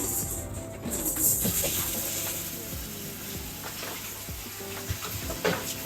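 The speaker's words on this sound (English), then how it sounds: "I think I can cook fish now" Fish frying in a pan, a steady close sizzle with light crackles and occasional clinks of utensils, without anyone talking.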